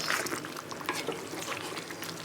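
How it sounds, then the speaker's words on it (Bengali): Duck meat sautéing in a pan, a steady close sizzle broken by scattered stirring scrapes and clicks, alone without voices. "এগুলোকে আমি ভালোভাবে কষিয়ে নিব যেন কষানোর মধ্যেই মোটামুটি সেদ্ধ হয়ে যায়।"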